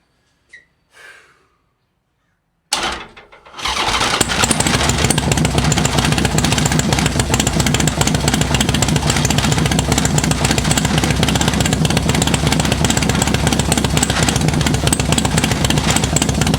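Harley-Davidson Sportster 1250 rubber-mount chopper engine catches after brief handling noises, then runs loud and steady at a rough, fast idle for over ten seconds, close up.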